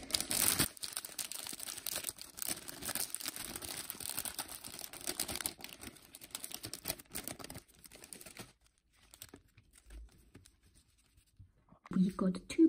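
A Topps Champions League 2021/22 Match Attax card multipack wrapper is torn open and crinkled up close, with continuous plastic rustling and scratching that fades to near silence before a few final crinkles.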